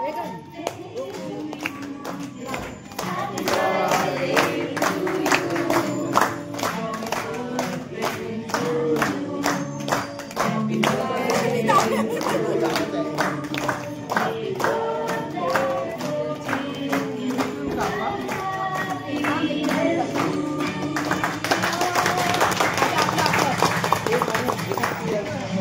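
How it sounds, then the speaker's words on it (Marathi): Many people clap together in a dense, steady patter at a children's birthday party, with chatter and voices running underneath throughout and the clapping swelling louder toward the end. "टाळ्या तर वाजवा."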